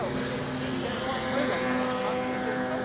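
Alfa Romeo Twin Spark race cars battle around Donington, a steady engine drone from the pack running beneath a commentator's voice.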